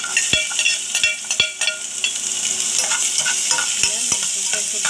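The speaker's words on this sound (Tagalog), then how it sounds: "Ilunod na natin ang ating sibuyas." Onions sauté in a pan for sardines with misua, giving a continuous close sizzle broken by sharp spatula taps and scrapes against the metal, with no talking.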